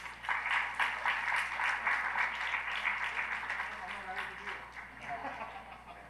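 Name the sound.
audience applause at a forum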